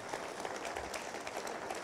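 Congregation applause during a Sunday church service, a steady, moderately faint spread of clapping from many hands with no talk over it.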